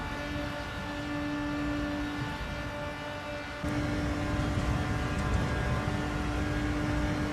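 A car engine in a racing video game, a steady humming drone with a sustained tone that rises and grows louder about halfway through, as if accelerating.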